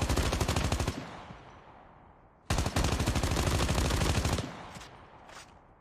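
Rapid automatic gunfire from a Call of Duty Mobile firefight, two loud sustained bursts of dense, rattling shots separated by a short lull, with a few trailing single shots at the end.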